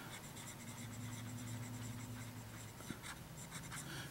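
A Retro 1951 Tornado fountain pen with a Schmidt medium nib writes on paper, giving a faint, steady scratchy glide close by in a quiet room.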